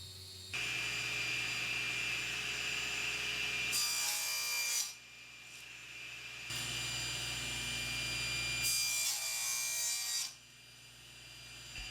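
A saw slices a wooden board into thick pieces for box tops and bottoms in two long, loud cuts, each building to a harsh whine near its end before the sound drops away.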